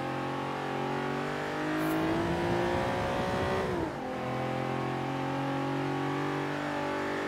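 A supercar's engine in Forza Horizon 3 drones loudly while cornering, its pitch rising and falling as the car takes turns, with a brief dip before it settles into a steady hum.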